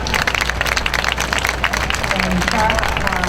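Applause from a crowd at a county fair draft horse pull, a steady patter of clapping that runs through the whole stretch with a murmur of voices mixed in.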